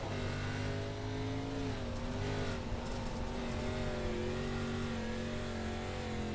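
A dirt race car on the Bristol dirt track in an ARCA Series race accelerates with a steady, buzzing engine drone, its pitch wavering slightly on the throttle, heard at a moderate distance with no talk.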